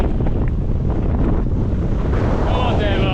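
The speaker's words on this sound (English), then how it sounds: "And it is very windy." Strong, roaring wind buffets the microphone on the exposed summit of Scafell Pike, England's highest point. The gusts are constant and loud throughout, with a faint voice barely audible beneath the rush.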